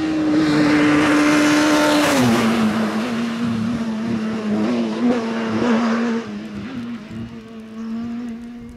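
A rally car on a stage of the 2021 Rally de la Vendimia roars past at close range, its engine note dropping as it goes by, then revving and shifting before fading into the distance.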